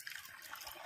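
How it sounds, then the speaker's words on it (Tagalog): Water poured into chicken feed mixed with a dewormer for 56-day-old chicks: a faint, steady liquid trickle and splash, quiet and close, with no voices. "So lagyan ng tubig."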